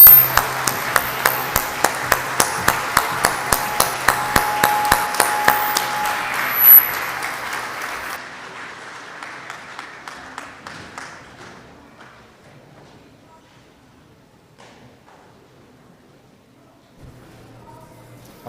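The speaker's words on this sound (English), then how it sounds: "give one warm round of applause to the graduating class of 2025" Secondary school convocation audience claps for the graduating class of 2025, starting with a crisp, regular rhythmic beat of hands together, then thinning out and fading to near quiet with a faint stray sound at the end.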